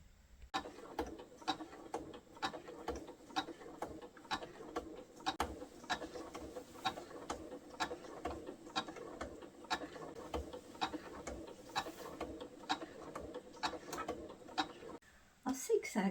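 Sewing machine running a zigzag stitch around the appliqué pieces of an owl-shaped fabric cushion, a steady close mechanical ticking and whirring that carries on for most of the stretch before stopping near the end.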